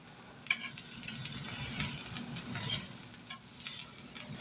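Steaks sizzle steadily in a hot pan with a bright hiss. A sharp knock or scrape marks the flip, and a few lighter scrapes follow. No one talks.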